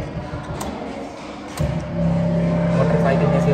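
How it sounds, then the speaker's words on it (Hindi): At a drum exhibit with encoded music in the Regional Science Centre, Jaipur, a low droning hum swells in partway through and holds steady like an idling motorcycle engine. Voices and room murmur sit underneath. "मोटरसाइकिल जैसी आवाज आ रही है।"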